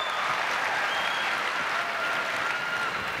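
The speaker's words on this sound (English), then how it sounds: "Give yourselves a big round of applause." A large crowd at the Hillsong Conference in Sydney, 2013, applauds in a thick, even wash of clapping that holds at full strength from start to finish, with no voices over it.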